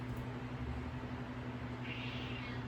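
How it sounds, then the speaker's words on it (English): A faint meow from a female cat sitting behind the speaker, rising late, half-buried under a steady electrical hum and background noise. "That is my cat."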